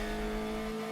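A touring car in the Reiza Brazilian Touring Car Classics racing sim, from the Copa Fusca/Uno class, holds a steady, loud engine drone at constant pitch for about a second, with no voices.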